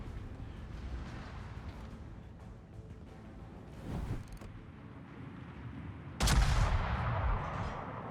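Battleship guns fire in the naval game World of Warships: a distant low rumble grows into one heavy, loud boom near the end, with a sustained roar afterward.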